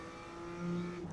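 A BMW M2 engine in the iRacing sim on the Miami circuit climbs steadily under acceleration, a smooth rising tonal whine with engine harmonics, close and moderately loud, with no talk.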